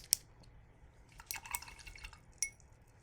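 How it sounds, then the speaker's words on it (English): A paintbrush is rinsed in a water jar during a painting session: faint drips and light swishing, with a couple of small clinks against glass, quiet and close with no voice. "And I'm going to wash my brush again."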